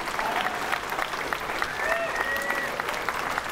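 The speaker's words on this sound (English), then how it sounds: "Let's give him a huge round of applause." A live audience at the Classic Tetris World Championship breaks into sustained applause for the new champion, with dense steady clapping and scattered cheers and whistles rising above it.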